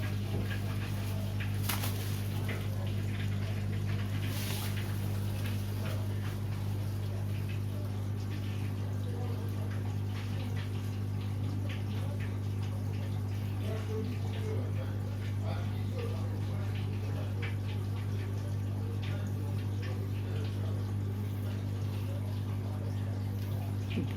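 A compact Vestfrost VFWM 1241 SL washing machine draining water: a steady, close pump hum with faint gurgling and trickling that continues evenly throughout.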